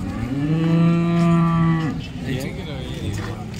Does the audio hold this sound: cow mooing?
yes